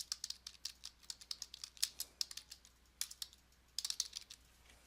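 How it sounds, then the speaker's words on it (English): Search words being typed on a computer keyboard, quick bursts of crisp key clicks close up, pausing briefly between words, in a quiet room. "First, let's just type in stereotypes and workplace."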